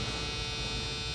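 A small electric motor powered in a simple circuit, drawing about 25 milliamps, runs with a steady, faint, even hum and buzz and no talk over it.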